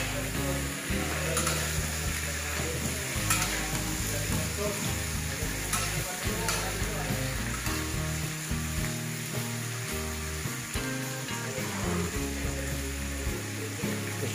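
Pinakbet vegetables stirred in a frying pan, with steady close sizzling and scraping, plus scattered clinks and knocks from the utensil against the pan throughout.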